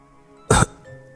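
Two short, sharp human coughs, the first strong and close, the second clipped at the very end, with near silence between and no talking.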